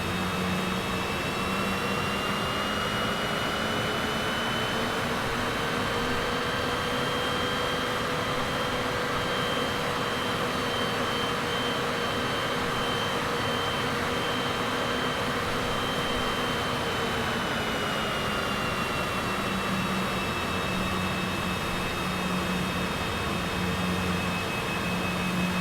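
A Cessna Citation CJ4 business jet taxiing in Flight Simulator 2024 on Xbox gives off a steady, loud whining jet engine drone with sustained tones that shift slightly in pitch partway through, and no voices.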